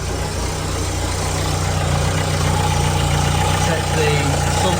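A Nissan NV200 van with a 1.5 dCi diesel engine idles steadily at close range, a constant low rumble with no revving.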